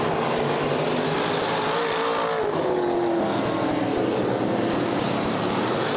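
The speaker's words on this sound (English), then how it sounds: "Here comes Eric Rankin in car 7A." A sprint race car thunders past at Fremont Speedway during the Race of Legends, its engine roaring loud and close with a rising and falling pitch, the wide racket filling the air and no voices audible.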